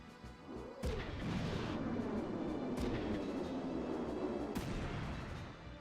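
Missile explosions rumble through a battle in the video game Front Mission 3, a sustained heavy roar with sharp blasts at intervals, moderately loud and without talk.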